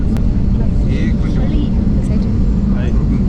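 Steady airplane cabin noise in flight toward Srinagar, a loud constant low engine roar and rushing air filling the whole clip, with faint voices underneath.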